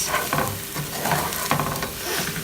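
Rice and liquid for an asparagus and spinach risotto are stirred in a hot pan, a close wet sizzle with repeated scraping sweeps of the spoon and no talking.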